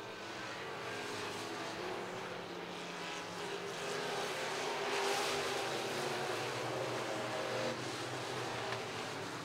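Sport mod race cars roar around the RPM Speedway oval in a three-car fight for third, a steady dense engine drone that swells and fades slightly as the pack passes, heard from a distance with no talk.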